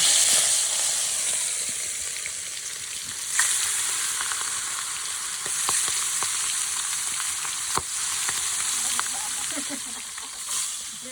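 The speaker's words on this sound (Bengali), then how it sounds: "হলুদ মাছগুলো ভেজে নিচ্ছি" Turmeric-coated fish frying in hot oil, a steady close sizzle and hiss with occasional sharp pops and crackles, continuous throughout.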